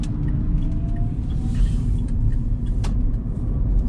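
Steady engine rumble and road noise from inside a Smart car driving around town, a constant low drone with no talk.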